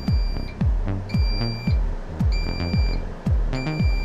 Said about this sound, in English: These switches monitor the sash position and trigger an alarm